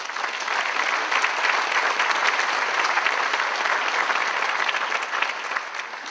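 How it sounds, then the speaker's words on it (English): A large audience at a university fall address breaks into a steady, dense round of applause, many hands clapping together at an even level throughout without letting up. "Give yourself a round of applause,"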